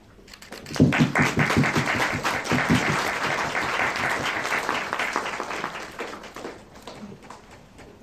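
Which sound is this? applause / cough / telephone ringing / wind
applause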